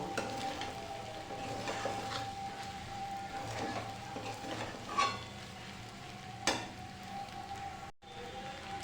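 Masala pasta with chicken, prawns and egg is stirred in a pan, giving a quiet, steady sizzle with soft intermittent scraping and a couple of distinct spoon knocks against the pan.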